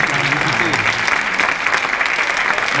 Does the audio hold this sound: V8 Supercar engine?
no